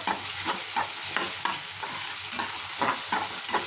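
Ginger garlic paste fries in a pan for a mushroom curry, with a steady sizzle and repeated scraping stirs at an even rhythm, close and moderately loud with no voices.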